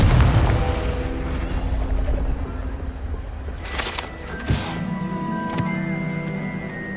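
A Confringo spell blast cast in the game Hogwarts Legacy, a single sudden burst partway through, standing out over a steady, noisy game backdrop.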